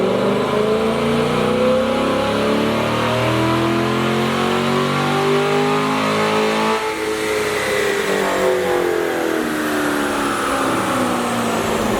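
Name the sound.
C8 Corvette with Corsa exhaust revving on dyno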